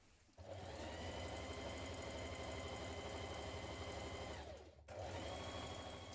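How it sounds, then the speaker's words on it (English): A sewing machine hums continuously while stitching a 1.5 cm seam allowance on a blouse. The motor is close and steady, with a short pause before it starts again, and no one speaks. "we're going to stitch it in position"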